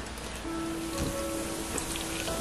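Fanta orange soda poured steadily into a bowl, giving a continuous fizzing, splashing stream with a faint ringing tone, heard alone at close range.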